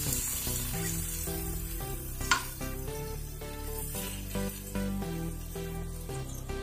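Okra (bhindi) frying in a pan for an okra mutton stew, a steady loud sizzle that fills the clip, with occasional utensil clinks against the pan.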